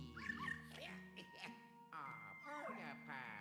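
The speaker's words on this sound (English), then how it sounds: "Puppy!" Puppy barking and yipping in Luigi's Mansion 3, a few short cartoonish yaps and whimpers set against game music and chimes. A person talks over part of it.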